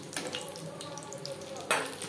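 Bhetki fish fillets fry in hot oil, a close, steady crackling sizzle with a sharper burst of spattering near the end.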